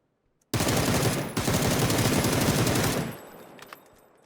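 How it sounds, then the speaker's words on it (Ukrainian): Sustained automatic gunfire in PUBG, a loud rapid burst of shots lasting about two and a half seconds with a short break, then tailing off into a few faint distant cracks. "А то хто стріляв?"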